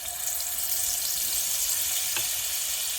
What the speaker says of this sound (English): we're going to put in 2 little slabs of butter